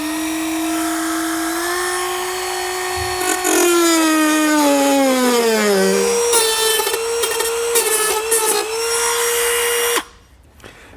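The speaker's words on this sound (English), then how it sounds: "So now we're just going to trim this out here with our cutoff wheel." A cutoff wheel trims plastic behind the front fascia of a 2013 GMC Terrain while a Blue Ox base plate is fitted, a loud close whine that drops in pitch as it bites, grinds steadily, then stops abruptly.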